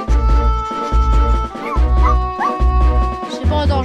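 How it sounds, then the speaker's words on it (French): A dog in the Cube World video game barks in a loud, close, regular series of about six yips over a steady musical drone, with no voices. "Ouais, bruit de chien."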